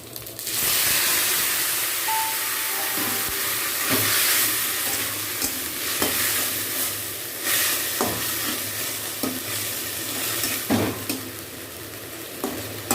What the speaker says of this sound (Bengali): পেঁয়াজ আদা রসুনটা একটু ভালোভাবে ভেজে নেব।